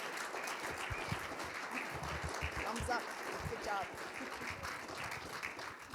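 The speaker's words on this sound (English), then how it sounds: "Give them another round of applause." Audience applause for a drama class after short plays at a community event, steady moderate clapping from a crowd sustained throughout, with faint talk mixed in underneath.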